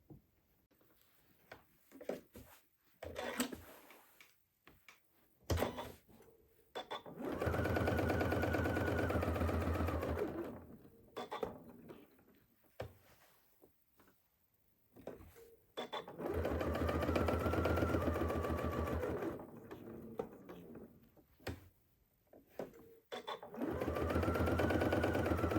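Sewing machine stitching free motion quilting across a fabric block, running in long steady bursts of several seconds each, separated by short pauses and small handling clicks, with no voices.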